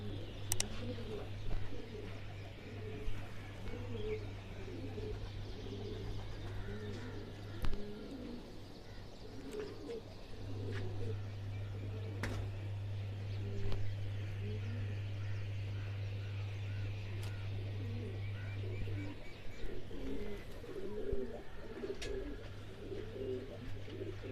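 Pigeons coo softly and repeatedly around a kabootar bazi setup, the low murmuring calls layered over a steady low hum with occasional sharp clicks, fairly faint and without talk.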